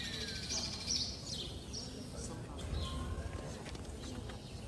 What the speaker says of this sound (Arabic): اسمع اسمع تكفى صوت العصافير